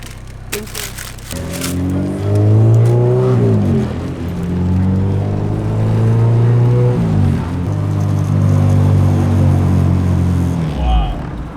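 An engine-swapped Honda Civic EK laps a track, its engine roaring loud and close as it revs up through the gears with shifts and lifts, a brief clatter at the start and voices underneath.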